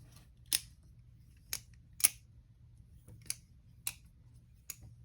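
A Maxace Hellcat balisong butterfly knife on washers is flipped, giving six sharp, crisp metallic clicks spaced about a second apart in near silence.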